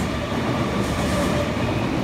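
Steady rumble of an Odakyu 8000 series chopper-control train running on the rails between Sagami-Ono and Fujisawa, a continuous close roar with faint rhythmic rattling.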